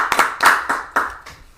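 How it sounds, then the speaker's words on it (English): A small group claps together at a fundraising livestream after a donation match is reached, with several short bursts of hand claps that fade out over a second and a half. "so we should clap that up."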